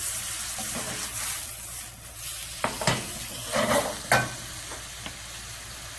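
Blanched vegetables sautéing in a pan, a low steady sizzle broken by several sharp clinks and scrapes of a utensil stirring, close and moderately loud with no talking.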